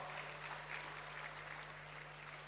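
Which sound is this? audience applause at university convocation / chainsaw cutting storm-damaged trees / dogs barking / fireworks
audience applause at university convocation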